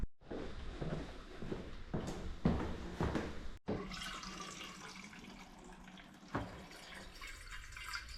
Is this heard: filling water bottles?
yes